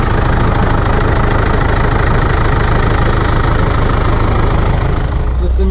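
A tractor engine idles loudly and close by in a field, a steady low rumble with a fast, rough knocking pulse that continues evenly throughout.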